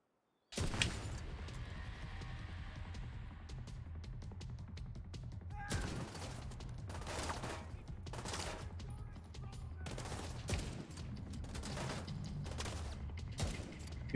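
Automatic gunfire in Tom Clancy's The Division 2 starts abruptly and runs close and loud as rapid bursts with sharp separate cracks, with occasional talk underneath.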